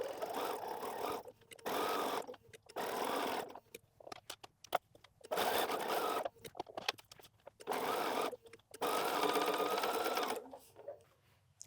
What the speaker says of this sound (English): I'm going to sew this, and then I'm going to pick up these and sew them